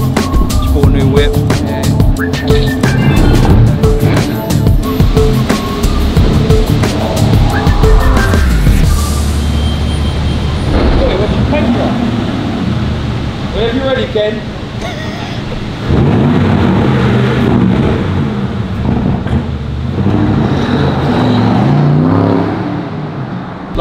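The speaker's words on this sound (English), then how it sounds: "The one of three in the world, the Aston Martin Q Jeep, absolute beast." A rare Aston Martin Q Jeep, one of three in the world, revs and drives in a loud, continuous engine roar with surging throttle, punctuated by sharper bursts and a rumbling low end.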